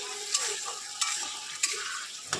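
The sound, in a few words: taro greens and fish curry frying with garlic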